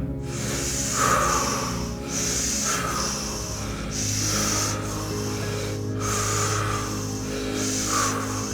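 An intense breathing exercise, a set of 30 forceful breaths, each a loud rushing inhale and hissing exhale repeating in a steady rhythm of about two seconds, close and alone over a low background hum.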